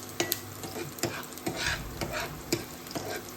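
Onions frying in oil in a pan, a steady broadband sizzle with periodic sharp clicks and scrapes of a spoon stirring, close and moderately loud with no talking.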